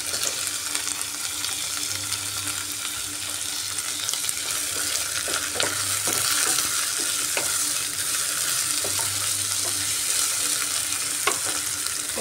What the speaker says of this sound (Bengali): এবার এর মধ্যে আমি আদা রসুন কুচিটা দিয়ে দিলাম, আর কেটে রাখা টমেটো দিয়ে দিচ্ছি।